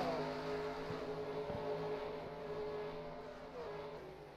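Stock race cars battling three-wide for position on track, engines droning and revving at a distance in overlapping layers, fairly faint and steady.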